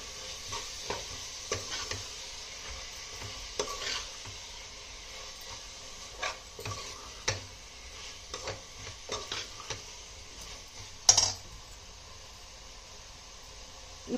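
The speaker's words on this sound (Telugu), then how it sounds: "ఇప్పుడు దీనిలోనే మనం సన్నగా తరిగి పెట్టుకున్న కొత్తిమీర కూడా వేసేస్తున్నాను" Finely chopped coriander frying in a pan of chicken chukka masala, a soft steady sizzle with intermittent scraping and stirring strokes, plus one sharper clatter near the end; no voices.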